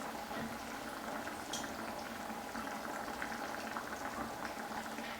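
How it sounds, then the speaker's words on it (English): Butter, 75 grams, melting in a pan over low heat as a base for a beef lasagne sauce, giving a steady soft bubbling sizzle that holds even and close throughout with no talk. "I'm going to melt our butter first"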